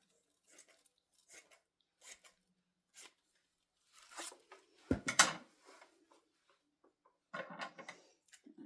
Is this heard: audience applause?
no